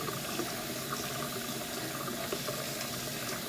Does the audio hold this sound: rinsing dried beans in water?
yes